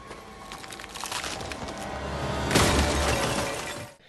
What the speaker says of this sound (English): this causes Ryler to tip over and break into like 100 pieces